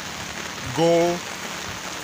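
Steady rain pours in a rainforest, a dense hiss running throughout, with a brief spoken word cutting in near the middle.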